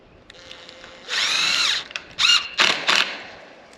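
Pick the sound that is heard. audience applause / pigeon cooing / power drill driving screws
power drill driving screws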